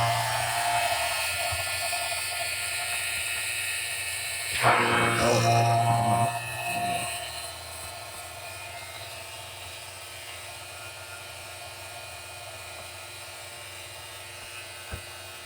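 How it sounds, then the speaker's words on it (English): A vacuum press runs while a Kydex holster is formed around a handgun, a steady motor drone that swells briefly into a louder whirring surge midway before settling back to a constant hum. "Turn on your vacuum press."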